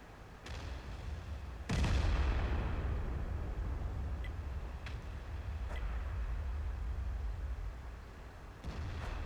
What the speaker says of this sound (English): The T-10 fires a shot at me and misses.